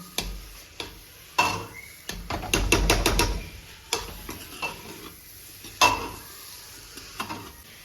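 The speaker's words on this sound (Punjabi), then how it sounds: "ਇੱਕ ਦੋ ਮਿੰਟ ਲਈ ਆਪਾਂ ਇਹਨੂੰ ਇਸ ਤਰ੍ਹਾਂ ਹੀ ਭੁੰਨਾਂਗੇ" Radish curry stirred and roasted in a pan, with repeated scraping taps of a spoon against the pan over a low sizzle, including a quick cluster of strokes in the middle; no talk.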